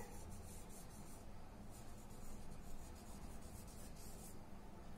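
A pen scratches across paper while filling in an exercise sheet, giving a soft, steady rubbing scrawl with faint rhythmic strokes, close and quiet, with no talking.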